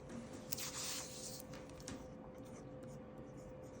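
A pen scratches on paper while labeling a graph of sea surface temperature, soft brushing strokes near the start over a quiet room tone, faint and close.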